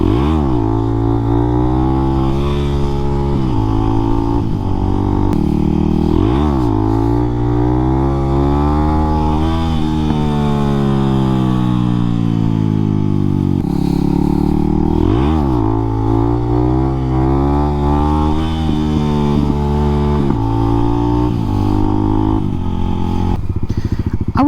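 A motorcycle engine during wheelie practice revs loudly and close up, its pitch climbing and dropping again and again through repeated throttle bursts and gear changes for the whole stretch.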